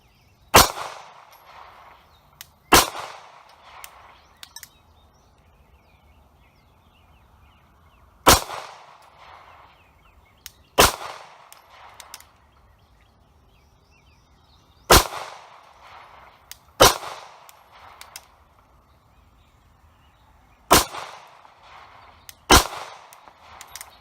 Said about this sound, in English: I'll shoot it a little bit more.